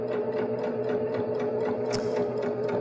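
A Baby Lock Jazz II sewing machine stitching quilt binding, its fast steady needle chatter running close and continuous, with a brief sharp click near the end.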